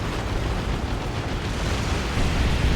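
A Death Gun fires at a Land Raider during a Dawn of War 2 battle, heard as a sustained, dense explosive roar that holds steady and swells slightly at the end, loud and unbroken, with no voices.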